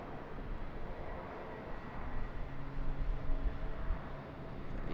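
An Airbus A321 departing Charlotte airport, heard as a steady broadband jet roar that builds slightly and holds loud throughout, with no talk over it.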